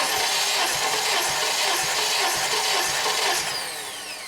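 A Honda 2.4L K24 engine cranks over with the throttle wide open during a compression test, a loud steady starter whir with regular rhythmic pulses from the compression strokes, close up, fading slightly at the end.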